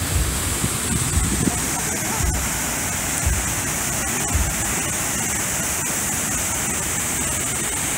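Steady broadband rush of water at the Burica waterfall bathing area, continuous and fairly loud throughout, with faint voices briefly audible beneath the roar.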